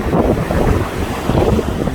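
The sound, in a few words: strong winter sea waves at Iho Tewoo beach, Jeju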